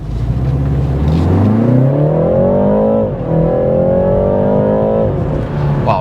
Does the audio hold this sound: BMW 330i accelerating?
yes